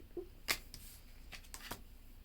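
Tarot cards being shuffled in a few quick riffling bursts, with soft papery snaps spaced about a second apart over a quiet room background.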